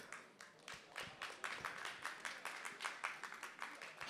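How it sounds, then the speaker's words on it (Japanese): Warm applause from a seminar audience gathered for a Microsoft MVP security and infrastructure talk, a steady patter of many hands clapping at moderate volume, close and unbroken for several seconds with no talking. "皆さんからも温かい拍手が巻き起こりました"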